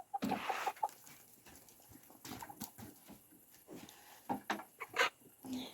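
Chickens clucking and squawking in irregular bursts inside a coop, nearby, with a steady low background rustle and no talking.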